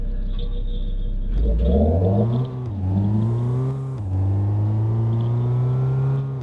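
An auto rickshaw engine idles and then revs up as it pulls away, with rising and falling pitch across several throttle surges. The sound is close and loud, with no talk.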